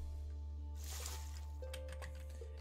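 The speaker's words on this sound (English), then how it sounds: "Let's get 2 buckets of clear water." Water sloshing and splashing as buckets are filled with clear water in the video game Graveyard Keeper, a soft liquid swish over a steady game-music hum, with a few short bright drips near the end.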